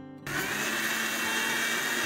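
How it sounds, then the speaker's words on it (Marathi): A kitchen mixer grinder whirs into action after a brief pause, blending mango, sugar, full-fat milk and cream with a loud, steady motor hum that continues without a break. "हे 2 मिनिटं मिक्सरला फिरवून घेऊया."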